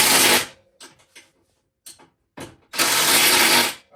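A ratchet tightens bolts during assembly of a Coleman AT 200-B ATV, with loud bursts of rapid clicking at the start and end and a few short, sparse clicks between, close by.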